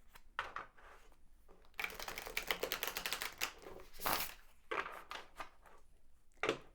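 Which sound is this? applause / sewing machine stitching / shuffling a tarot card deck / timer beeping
shuffling a tarot card deck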